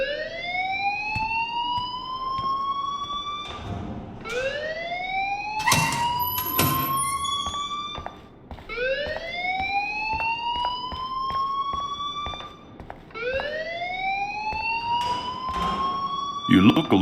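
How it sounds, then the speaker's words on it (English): Fire alarm blaring in Life Is Strange, a rising electronic whoop repeated four times in steady cycles, loud and close, with sharp clattering bursts between sweeps and no talk over it. "please turn off that alarm since that's your job"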